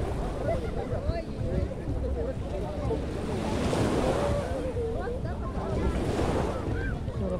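Ocean waves wash in steadily at a beach in Dubai, a continuous surf roar with wind buffeting the microphone, close and fairly loud, while someone talks over it.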